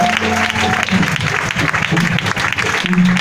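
Church congregation applauding and acclaiming the Lord at a Pentecost 2019 service, a steady close wash of clapping that runs the full length without a break, with some voices mixed in.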